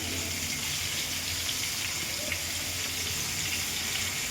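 Bangda mackerel fish fry in plenty of hot oil, giving a steady, loud, hissing sizzle throughout with no voices.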